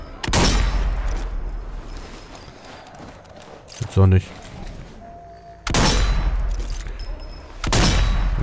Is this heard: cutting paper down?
no